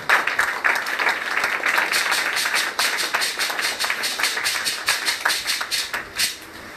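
Church congregation clapping hands in rhythmic, repeated claps throughout, fairly close and loud, fading slightly at the end.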